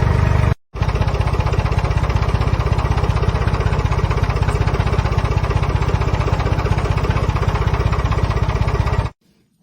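A loud portable sawmill engine runs continuously at a steady chugging idle while sawing a big log, starting after a brief cut and stopping abruptly near the end.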